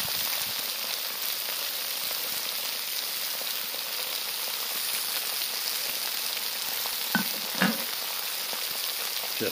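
Potatoes, meat and onion sizzle and crackle steadily in lard in a saj pan over a campfire outdoors, a constant hiss with scattered pops and a couple of brief stirring scrapes near the end.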